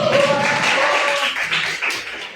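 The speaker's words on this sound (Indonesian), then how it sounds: "kita tepuk tangan buat aku" Students in a school classroom clapping together, a brief, dense burst of applause that stays fairly steady and then thins out slightly toward the end.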